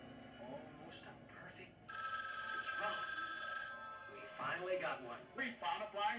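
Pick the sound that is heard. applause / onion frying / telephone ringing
telephone ringing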